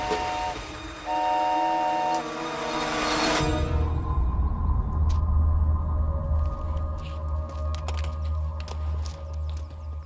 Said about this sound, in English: The train's coming. I knew I heard a train last night.